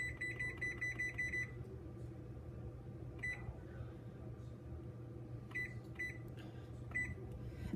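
An oven beeps in rapid electronic bursts as it is being set, a series of short repeated tones at first, then a few more isolated beeps over a low hum of the room.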